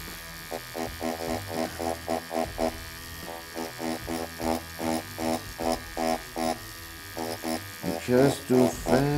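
A tattoo machine running at 5 volts buzzes in repeated short bursts during shading work, a close, steady electric drone that starts and stops in an uneven rhythm.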